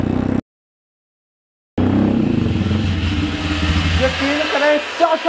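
Two motorcycles revving hard during a top speed run, a loud continuous engine drone with rising and falling pitch, broken by a stretch of silence early on.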